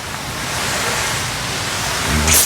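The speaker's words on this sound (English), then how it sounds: "And I just got it on a shower kind of mist setting." A garden hose on a shower-style mist setting sprays water over pavers during a paver joint repair, giving a steady, close, broadband hiss that swells slightly near the end.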